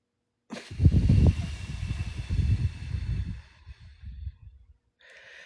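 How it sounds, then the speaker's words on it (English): Several deep breaths, slow drawn-out inhales and exhales with a sighing quality, close and fairly loud during a guided relaxation moment, then quiet near the end. "let's just take some nice deep breaths"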